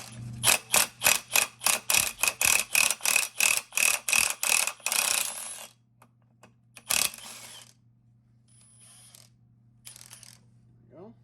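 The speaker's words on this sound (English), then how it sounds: "got the old Milwaukee out, zing this nut off" A Milwaukee impact wrench zinging a nut off on a 1978 Sears GT18 mower, about fifteen rapid evenly spaced hammering bursts up close, then it stops and a few faint clinks follow.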